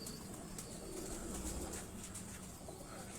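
Tiger-breed pigeons coo in a low, steady murmur on a rooftop loft in Lahore, with a continuous hiss of background noise over the whole stretch.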